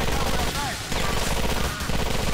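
Rapid automatic gunfire rattles in dense bursts throughout a GTA video game shootout, loud and continuous with only a brief gap between volleys.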